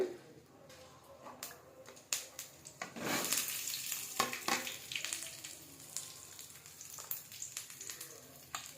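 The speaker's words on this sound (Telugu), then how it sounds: "ఆయిల్ వేగిన తర్వాత మొదటిగా పచ్చిమిర్చి ఉల్లిగడ్డ వేసుకోవాలండి" Green chillies and onion frying in hot oil for a gongura flower chutney, a steady close sizzle with stirring scrapes that swells loudly around the middle and keeps crackling to the end, no talking.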